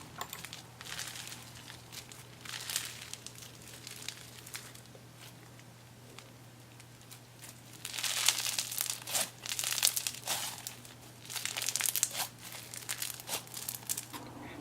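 Inflated slime dotted with blue balls and pink stars is squeezed and stretched, giving close crinkly, crackling squelches and small pops. The sounds come in uneven bursts that grow busier and louder in the second half, over a faint steady hum.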